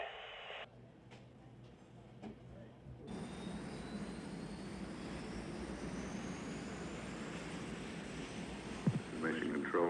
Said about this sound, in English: Mission Control chase planes are taking off now at Edwards.